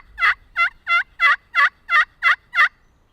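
Eight evenly spaced yelps from a slate pot call ring out in a quick steady series, close and clear against silence, imitating a hen turkey.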